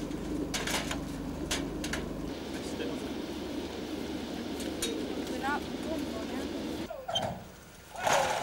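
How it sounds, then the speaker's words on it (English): Racing pigeons from the Central Southern Classic are liberated at Sennen Cove on a southwest wind, with a steady bed of wing flutter and faint cooing under distant outdoor noise, closing with a brief loud burst. "The Central Southern pigeons are up at 11:45 in a southwest wind"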